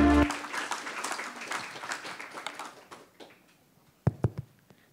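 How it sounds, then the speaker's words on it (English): Audience applause welcoming a speaker to the stage, a crowd clapping in a dense burst that thins and fades over about three seconds, then a few loud, isolated knocks or thumps near the end. "Soto Abril, CEO, Fairtrade International, with a round of applause, ladies and gentlemen"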